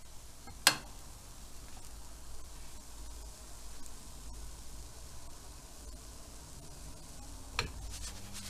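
Pancakes fry in a greased pan with a steady, soft sizzle, faint and continuous, broken by a couple of light clicks.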